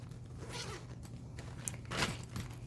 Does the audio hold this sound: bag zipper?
yes